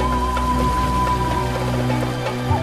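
Rain during the rainy season in Ethiopia, a steady patter of raindrops falling on surfaces with a low rumbling undertone, continuous and fairly loud for the whole moment.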